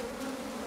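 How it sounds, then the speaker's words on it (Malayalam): Honeybees buzz steadily and close around a person's face, a continuous droning hum with no speech. "സംഭവം ഇത് കംപ്ലീറ്റ് തേനീച്ചയാണ്."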